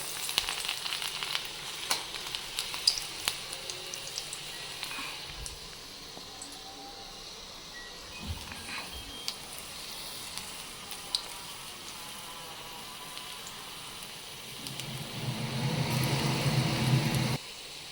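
Garlic roasting in a pan on the stove, a soft, faint close sizzle with sporadic light crackles and stirring touches, rising to a louder sizzle near the end, no voices.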